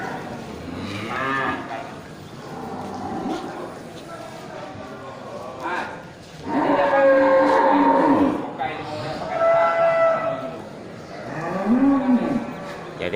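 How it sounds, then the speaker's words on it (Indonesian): Cattle at a busy cattle market, including Bali, Aceh and Simmental bulls, give several loud, drawn-out moos close by, with crowd chatter and someone talking throughout. "di lapak punya Bang Syahril juga terlihat ini lumayan banyak sapi jantan ya"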